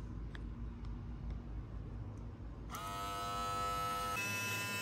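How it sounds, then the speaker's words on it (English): An electric shaver switches on partway through and trims the pile of a tufted Hello Kitty and Cinnamoroll rug with a loud, steady, close buzzing hum that follows a low background rumble. "I'm about to start shaving this down"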